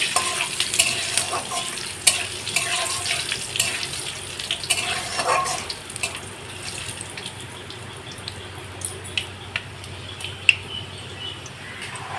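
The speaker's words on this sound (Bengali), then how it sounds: "দুটো শুকনো লঙ্কা দিয়ে দিলাম ফোড়নে দুটো তেজপাতা এই সাইডে রেখে কিছুটা কাজ ফোড়ন" Dried chillies, bay leaves and five-spice tempering in hot oil for vegetarian ghugni, a steady close sizzle with occasional stirring clinks and no talking.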